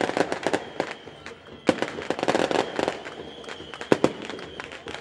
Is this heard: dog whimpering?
no